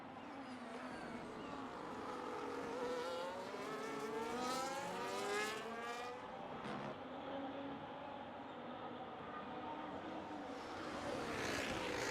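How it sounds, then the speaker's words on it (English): A Ferrari race car running down a straight at Baku in an online sim racing league, a faint, steady engine note rising and falling through the gears, with the car bottoming out underneath. "I can just hear this Dr. Steele's Ferrari bottoming away."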